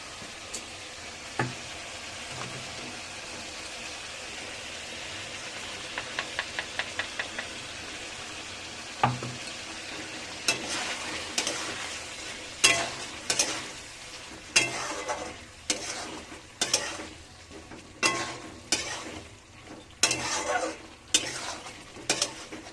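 Tomato puree goes into a pan of frying chicken for chicken kosha, with a soft sizzle under a series of regular spatula scrapes and knocks against the pot that grow more frequent and louder toward the end.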